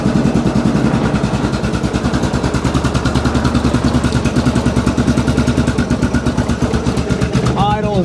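A Yamaha Grizzly 660 ATV, cold after sitting eight years, idles slightly low with a steady, even engine chug and light mechanical clatter, close and continuous throughout, ending with a faint high whine.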